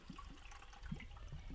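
Water gurgles and pours through the open turbine cavity of a cottage water system. The flow is faint and continuous, with low bubbling surges.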